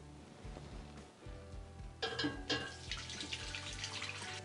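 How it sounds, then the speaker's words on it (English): Water poured into a bowl for spent grain bread dough made with Trappist Single grain, splashing in bursts around the middle and continuing as a trickle, close and moderately loud with no speech. "so I'll add the water"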